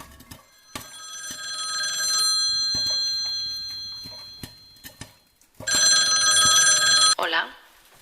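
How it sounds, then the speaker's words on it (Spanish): A telephone bell rings in two long, bright bursts separated by a quiet pause, loud and near. "el teléfono suena."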